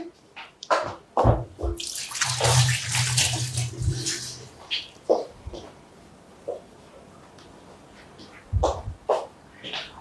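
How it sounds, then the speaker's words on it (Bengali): Running tap water as hands are washed, a steady splashing hiss in the first seconds followed by scattered drips, clatters and quiet handling sounds, fairly close and not loud. "একটু হাতটা ধুয়ে আসছি আমি"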